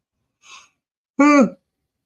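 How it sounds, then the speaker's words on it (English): A breathy intake followed by a longer voiced, drawn-out exhale, like a tired yawn, close to the listener with silence around it. "I can't stop yawning"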